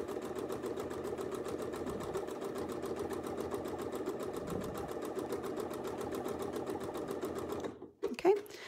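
Sewing machine stitching steadily through a free-motion quilting project, its rapid even needle rhythm running close and continuous for several seconds before cutting off abruptly, followed by a couple of brief handling knocks.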